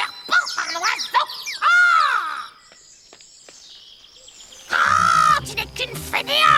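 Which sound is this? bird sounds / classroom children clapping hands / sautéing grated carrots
bird sounds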